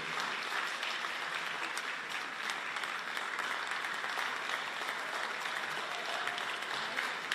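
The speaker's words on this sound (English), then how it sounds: "Continue clapping, make her welcome." A large audience claps steadily and continuously in an event hall, welcoming a lifetime achievement awardee on stage at a poetry festival in Jamaica, with the dense applause holding an even level throughout.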